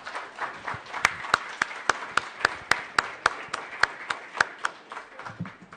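Audience applause for participants at a panel discussion on madness: a steady train of sharp, evenly spaced claps sounding close and clear, with no voices over them.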